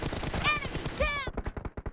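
Rapid automatic gunfire in the mobile battle-royale game PUBG Mobile rattles in a fast burst of close, sharp shots, with brief game voice cues and chimes layered over the first half.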